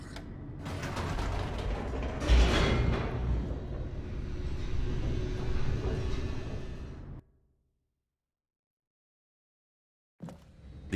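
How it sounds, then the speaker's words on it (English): An elevator descends in The Stanley Parable: Ultra Deluxe, a steady loud mechanical rumble with creaking and grinding gear-like rattles, swelling early on, then cutting off abruptly into silence before a short sound resumes at the end. "The elevator raced downward, plummeting towards an unknown fate."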